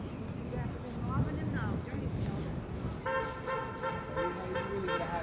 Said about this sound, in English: New Jersey honking his horn.